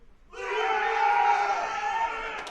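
Spectators at the 2015 IPC Powerlifting European Open Championships in Eger burst into loud collective shouting and cheering, rising sharply after a quiet start and holding as a dense, sustained roar for about two seconds.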